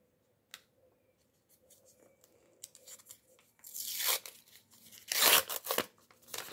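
A small gift packet is torn open with loud ripping and crinkling bursts in the second half, after a quieter stretch of light handling rustles.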